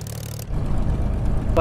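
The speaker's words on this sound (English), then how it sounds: "That's a Spit engine." A Spitfire's engine runs in a flight simulator game: after a brief lighter hiss, a deep, loud, throbbing piston drone takes over and holds steady.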